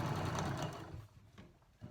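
A sewing machine stitches a seam on a traditional waistband, running in a steady close hum that slows and eases off partway through the short stretch, with no talking.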